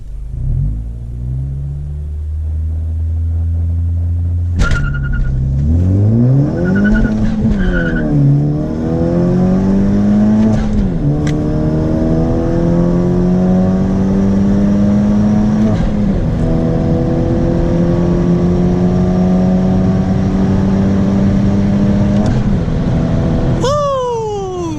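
A Honda Civic Sport hatchback launches hard on a quarter-mile run with traction control off. The engine roars loudly and steadily, its pitch climbing through each gear with brief dips at the shifts, and a final sharp rev near the end.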